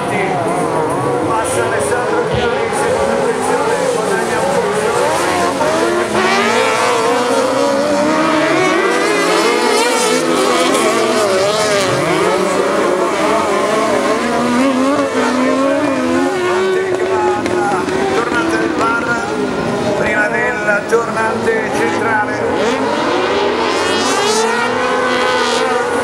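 Autocross race cars at Maggiora in the FIA European Autocross Championship support race, engines roaring loudly and continuously as they sweep around a curve, with a commentator talking over the noise throughout.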